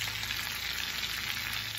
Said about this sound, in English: these here are ready and these are still frying